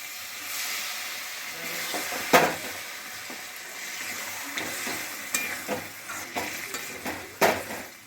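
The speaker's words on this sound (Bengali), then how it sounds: "এবার আমি গরম জলটা দিয়ে দিচ্ছি।" Hot water poured into meat cooking in a pan sets off a steady hiss and sizzle of steam, broken by occasional clinks and scrapes of a utensil, with no talking.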